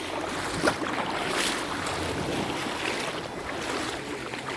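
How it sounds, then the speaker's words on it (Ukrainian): Sea waves washing steadily onto the shore at Žuljana, Croatia, a continuous broad rushing wash close by, with no voices. "Просто зараз хвилі почалися, а так як нема хвилів, просто супер."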